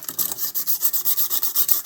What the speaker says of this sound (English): I'm just going to scuff up this all around the edges